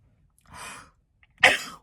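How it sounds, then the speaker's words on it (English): A single sharp sneeze bursts out after a softer breathy intake, close and fairly loud, with near silence on either side. "Made me sneeze."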